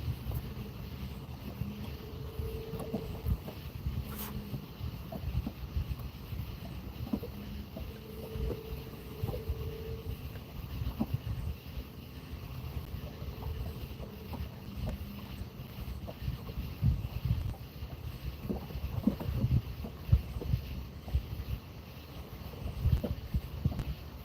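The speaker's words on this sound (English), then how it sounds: "The wind's picking up just a little bit." Light wind picks up on the Ohio River during a fishing outing: a steady low rumble and gusty buffeting on the microphone persists throughout, with faint scattered knocks and no talking.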